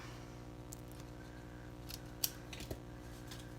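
Scissors cut paper for a handmade children's party card in a few quiet snips, one sharper snip standing out, faint and close over a low room hum.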